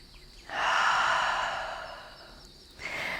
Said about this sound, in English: Take one more deep inhale.